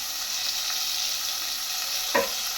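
Peanut oil sizzling in a pan while chappal pulusu, a fish stew, is being cooked: a steady, bright frying hiss that runs throughout, with a brief louder spit or stir near the end.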